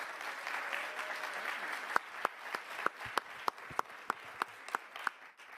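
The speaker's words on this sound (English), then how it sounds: "please join me in welcoming one of those great partners in this effort, Natalie Harris" An audience applauds to welcome a speaker, a soft spread of many hands with sharper individual claps standing out near the end, fairly distant and moderately quiet.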